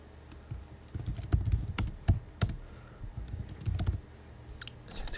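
Keys on a computer keyboard clatter in uneven bursts of close, crisp clicks with short pauses between, while a Windows 7 edition name is typed in during setup.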